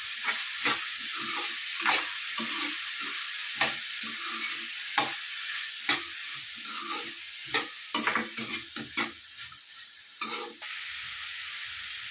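Steady sizzling of masala spices frying in oil for country chicken curry, with a spoon repeatedly scraping and knocking against the pan throughout.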